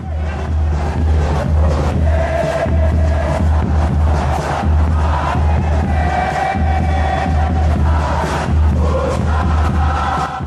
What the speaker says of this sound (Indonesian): suara puluhan ribu manusia bergema, menguatkan setiap langkah yang diambil di lapangan